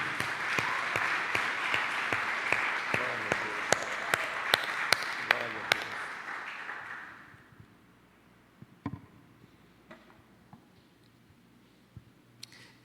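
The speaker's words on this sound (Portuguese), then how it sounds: "Vamos aplaudir a palavra de Deus" A Portuguese-speaking church congregation claps together, a dense, steady wash of applause that holds for about six seconds, then thins into a few scattered claps and knocks.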